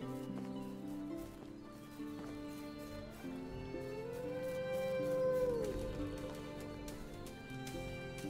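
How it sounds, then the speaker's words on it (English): A wolf howls in the medieval survival game Medieval Dynasty. The single long, rising-then-falling howl swells over steady background game music. "I just heard a howl"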